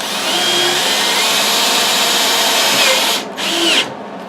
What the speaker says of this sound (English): then turn it forward and drill through.